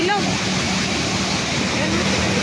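Swollen floodwater rushing down a river in Sta. Rosa, Laguna, during nonstop rain, a loud continuous roar of turbulent water close by, with no break across the whole stretch.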